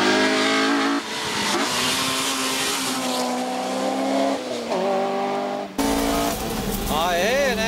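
A Nissan 350Z races around a track strewn with sand and fallen leaves, its engine droning loud and close through shifting revs, with brief tire noise and someone talking over it.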